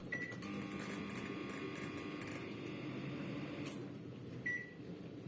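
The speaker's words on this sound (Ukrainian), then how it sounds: "мікрохвильова піч моментально вимикається" Microwave oven humming steadily while powered by a Bluetti AC180P portable power station, a continuous close drone with a couple of brief high beeps near the start and end.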